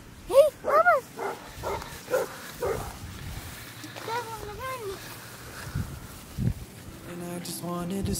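A basset hound barks and yips in short bursts, loud and close, with a couple of sharp barks near the start and more later, while people talk in the background.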